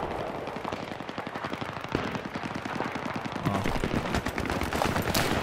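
Sniper rifle gunfire in the first-person shooter Battlefield 3, heard as a dense, steady stream of rapid shots close by with heavier blasts layered in, continuing across the whole stretch.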